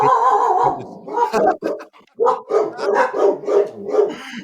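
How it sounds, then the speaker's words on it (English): Dogs bark indoors in a steady run of loud, close, repeated barks and yelps lasting several seconds, with a brief pause midway. "I forgot I forgot about your dogs."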